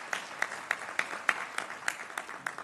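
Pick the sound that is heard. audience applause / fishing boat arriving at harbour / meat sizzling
audience applause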